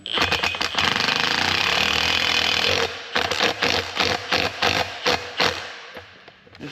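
An impact wrench hammers bolts tight on a Stanadyne DB4 injection pump of a Deere 4045 engine on a 450G dozer, first a sustained loud rattling burst, then several short close bursts in quick succession.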